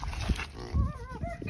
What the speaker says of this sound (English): We raise cooney pigs.